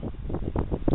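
Breezy wind on a hiking trail in the Ozarks, gusting against the microphone as a rough, buffeting rumble with uneven pulses, close and moderately loud, no talking.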